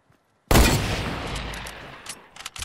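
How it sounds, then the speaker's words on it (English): A hunting rifle fires in a video game: one sudden, loud, close blast that rolls off in a long echoing tail, followed by a few quieter sharp cracks. "Was that a hunting rifle?"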